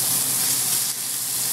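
Pressed garlic, three cloves, hitting a hot skillet: a loud, dense, continuous hiss that dips slightly partway through, close up, with no one speaking.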